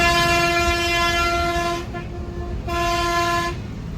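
A bus horn blares loudly and continuously on a fast Cuddalore to Pondicherry run, holding a steady tone with two short breaks between long blasts, over constant road rumble.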